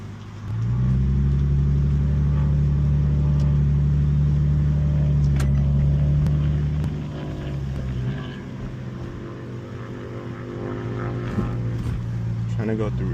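An Infiniti G37X with a swapped VR30 engine accelerates through the gears, its engine note rising loud and steady, then dropping at a shift before climbing again, with voices talking over it.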